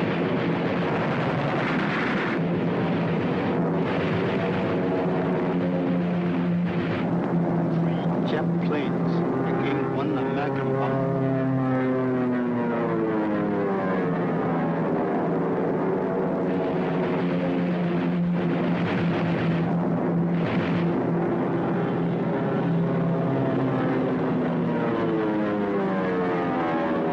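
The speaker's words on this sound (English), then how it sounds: "That was a Japanese plane which came down." A Japanese propeller plane comes down with a loud, continuous engine roar that shifts in pitch throughout, while voices speak over it in a 1942 film soundtrack.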